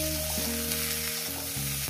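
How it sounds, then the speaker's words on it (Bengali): Cauliflower mashed with katla fish, salted and spiced with turmeric, frying in a pan, with a steady close sizzle and occasional stirring scrapes, no voices. "দেখাচ্ছি কিভাবে ভাজছি।"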